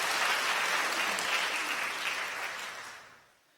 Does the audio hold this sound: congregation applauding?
yes